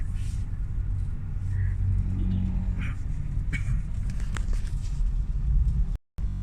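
Cars crawl through road traffic in Tagaytay, a continuous low rumble of engines with occasional faint clatters and brief higher noises, ending in a sudden short cutoff.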